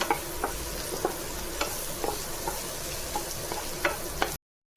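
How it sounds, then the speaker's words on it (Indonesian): Shallots, garlic and chili sizzle while being sautéed in a pan, a close, steady frying hiss broken by light scrapes of stirring, then a brief cut to silence near the end. "Aku tumis bawang sama cabai ya untuk sayurnya."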